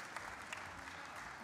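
Steady clapping from a crowd of spectators at an indoor athletics meet in Nehvizdy, heard as a dense, even patter at moderate distance throughout.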